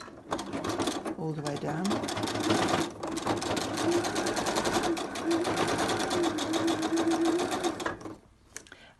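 A sewing machine running in straight stitch, sewing Velcro onto a fabric fidget mat: a fast, steady mechanical whirring stitch that runs for several seconds and then stops, with someone speaking briefly over it.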